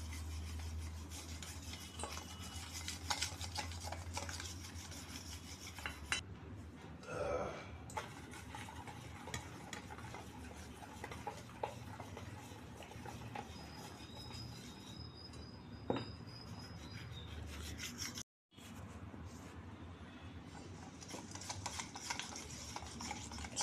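Dhokla batter being mixed by whisk or spoon, a steady close scraping and stirring rasp that runs through the clip with a brief gap near the end.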